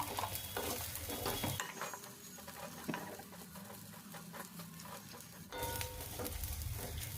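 Spices and turmeric fry in a pan on a gas stove, a quiet patter and sizzle with occasional stirring and utensil clinks, no talking.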